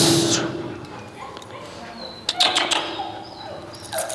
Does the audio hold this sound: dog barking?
yes